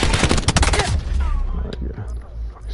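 Gunfire in a first-person shooter match in hardpoint mode, with loud rapid bursts of shots packed into the first second, then fading into quieter game ambience.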